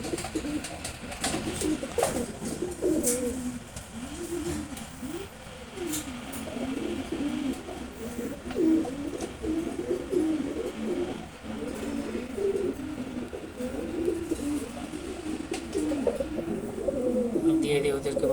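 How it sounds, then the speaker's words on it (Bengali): Female Huma pigeons coo in soft, rolling repeated phrases close by, layered over one another almost continuously, with a voice talking faintly at times underneath. "এই দুইটা হুমা কবুতরই মাদি।"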